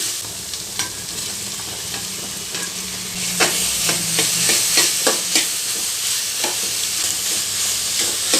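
Tomato added to broccoli frying in a pan for a broccoli egg bhurji, a bright steady sizzle that grows louder midway, broken by regular scraping stirs of a spoon, close by.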